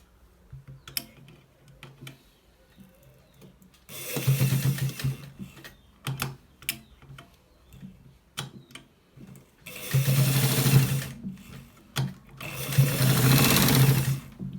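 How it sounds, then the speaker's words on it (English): A sewing machine stitches a pocket onto a collared shirt in three loud, steady bursts of running, separated by quieter stretches of handling clicks and small taps. "We are going to be stitching it right now."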